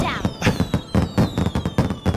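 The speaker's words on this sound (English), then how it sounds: "That is a lot of fireworks." Fireworks in Xenoblade Chronicles 2 burst in a quick, dense run of crackling pops, one after another, over a faint whistling tone.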